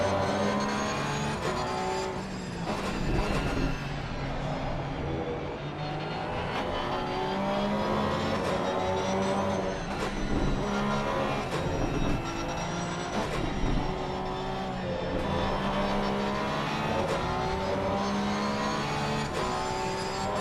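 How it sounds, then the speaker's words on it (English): A Porsche GT3 race car with a flat-six engine roars continuously in the Assetto Corsa Competizione racing game, revs rising and falling through gear changes as other cars run close, loud and steady throughout. "And on board with Barth, still Porsche, one of the best sounding cars in my opinion"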